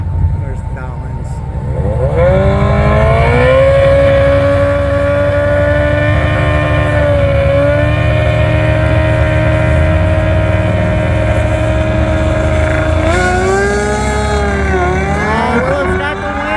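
A 1980 Pontiac Trans Am with a turbocharged 6.0 Vortec LS engine drag racing a motorcycle: a loud, sustained engine roar rising in pitch through the gears, with a second engine beneath it and a crowd voice talking over it.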